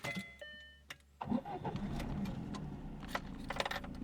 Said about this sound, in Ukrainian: Виключаємо, вижимаємо сцеплення, пробуємо заводити.